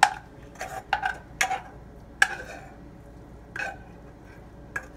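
Cooked oatmeal being spooned into a bowl, with a handful of sharp spoon-on-bowl clinks and scrapes spread unevenly, loud and close, over a quiet kitchen background.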